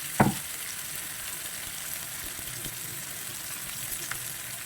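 Onions and dried fish (karuvadu) frying in a pan give a steady, moderate sizzle throughout, with a brief louder clatter right at the start and no one talking.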